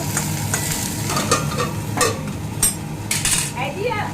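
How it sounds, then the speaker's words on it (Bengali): Cauliflower fries in a pan at home, a close, continuous sizzle broken by repeated metallic clinks and scrapes as a spoon stirs against the pan. "এই যে এটা আর একটু ফুলকপি ভাজা হচ্ছে আর একটু"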